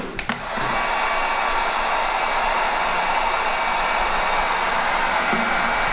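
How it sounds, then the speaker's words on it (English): A hair dryer runs on a portable power station, starting with a couple of clicks and then holding a steady, loud, continuous blowing whir with no talk over it. "You got somebody backstage needing to dry their hair while the concert's going?"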